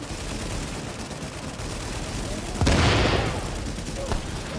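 Gunfire rings out in the video game Tom Clancy's The Division. There is a dense, noisy wash of shots with a loud burst partway through, and a voice talks over the game sounds.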